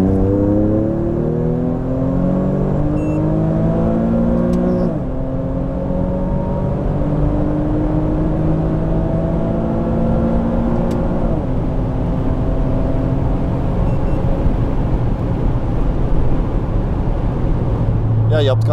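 A supercharged Nissan 370Z convertible with a Stillen supercharger accelerates hard through the gears with two people aboard. Engine pitch climbs in repeated sweeps broken by shift drops, with a steady whine loud and close inside the cabin.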